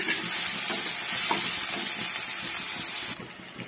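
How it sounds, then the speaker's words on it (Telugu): Onions frying with fenugreek seeds in hot oil for a Nellore-style fish curry, giving a steady close sizzle and hiss with light stirring, easing slightly near the end. "ఆయిల్ వేడైందండి, 1/10 మెంతులు, ఉల్లిపాయలు వేసుకుని ఫ్రై చేసుకుందాం."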